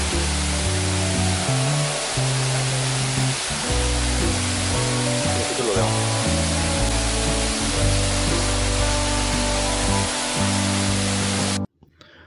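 A steady, loud rush of a waterfall inside a cave fills nearly the whole clip, with a low tonal hum underneath, then cuts off abruptly at the end.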